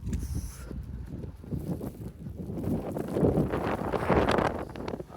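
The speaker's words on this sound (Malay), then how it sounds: "Angin kuat weh." Strong wind gusts buffet the microphone outdoors during a New York City blizzard, a rough rumbling roar that swells and builds louder toward the end, with no speech over it.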